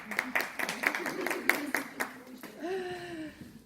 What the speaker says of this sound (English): Oh, I must clap when I start so that when he edits, there's a clap.